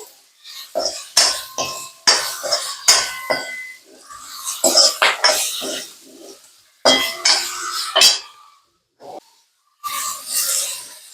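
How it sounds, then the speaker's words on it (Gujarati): A spoon scrapes and clatters against a pan as okra is stirred with turmeric over a low gas flame. The close, uneven bursts of metal scraping are separated by short pauses. "પછી ભીંડા નાખી દેવાના, હલાવી લેવાના, ધીમા ગેસે થવા દેવાના છે."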